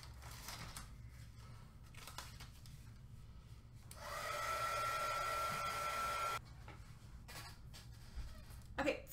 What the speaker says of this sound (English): I'm gonna hit it with our heat gun to get it dry before we go to the next step